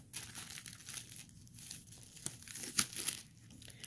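Cut card stock is peeled off a Cricut Joy cutting mat with a close, quiet crinkling and tearing sound. A few sharper crackles come near the end, and no one talks.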